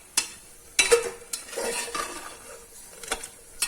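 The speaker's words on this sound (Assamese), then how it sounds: "তাৰপিছত আকৌ আমি ধুনীয়াকৈ লাৰি থাকিম।" Sweet papaya halwa with a splash of milk is stirred in a pan, giving scattered scrapes and a few sharp spoon clinks against the metal, soft and close, with no talk.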